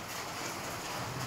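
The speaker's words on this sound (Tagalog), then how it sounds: "malakas yung ulan ngayon" Heavy typhoon rain roars as a dense, steady wash of noise, loud and constant throughout, with no voices over it.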